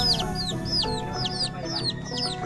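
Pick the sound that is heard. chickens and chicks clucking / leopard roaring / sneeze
chickens and chicks clucking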